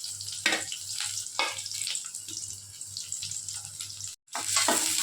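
Two onions and green chillies fry in hot oil in a kadai, giving a continuous hiss with intermittent stirring scrapes and a brief drop-out near the end.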